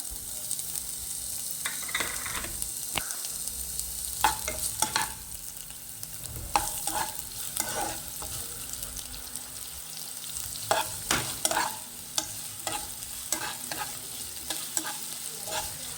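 Finely chopped onion frying in hot oil gives a continuous close sizzle, punctuated by frequent scraping and tapping of a spatula as it is stirred, with no voices present.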